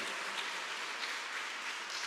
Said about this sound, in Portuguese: Dá uma salva de palmas à palavra de Deus bem forte.